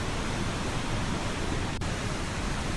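A waterfall in The Planet Crafter, a steady loud broadband rush of falling water that fills the whole stretch without pause.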